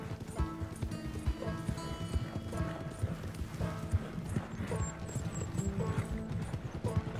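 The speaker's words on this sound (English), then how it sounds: "Nice little horsey ride here." Hooves clip-clop in a steady galloping rhythm as a horse is ridden in Red Dead Redemption 2, close and continuous, with faint creaks and light ambient sound beneath.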